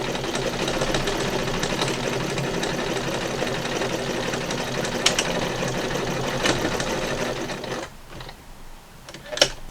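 A sewing machine stitches through layers of a face mask in a continuous, close mechanical whir with a fast needle patter, stopping near the end before a few light clicks.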